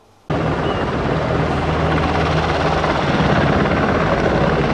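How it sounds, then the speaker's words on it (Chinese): A rescue helicopter lands on a school playing field in Yuli Township, Hualien, its rotor roar starting abruptly and holding loud and close. "早上8点，空勤搜救直升机缓缓降落在玉里镇永昌分校操场"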